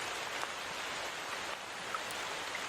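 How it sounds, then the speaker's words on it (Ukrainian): Rain falls in an even, soft hiss of many small drops, steady and moderately faint throughout. "А тепер заплющи очі та послухай звуки дощу."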